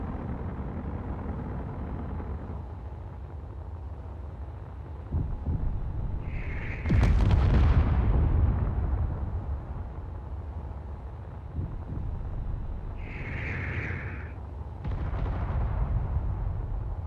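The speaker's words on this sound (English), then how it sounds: "my guns are still firing" Weapons fire in the Space Engineers video game: deep, booming rumbles with a few heavy blasts standing out over a steady low drone of engine noise.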